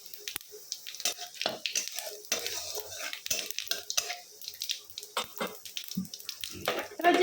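Cumin and dried chilli tempering in hot mustard oil, a soft crackling sizzle broken by frequent clinks and scrapes of a utensil stirring in the pan, close and fairly quiet.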